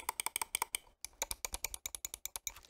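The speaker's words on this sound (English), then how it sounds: "So I'm gonna start with Superlight 2 and then going to go with Superlight 1," Rapid left clicks on a Logitech G Pro Superlight 2 gaming mouse, a crisp run of close, sharp clicks in quick bursts with a brief pause partway through.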